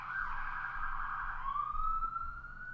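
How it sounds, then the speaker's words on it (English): Emergency vehicle siren in a town centre near a hospital, a steady wailing tone sweeping up and down at moderate distance, continuous throughout with no talk. "I live in the town centre near a hospital, so there's always sirens going on."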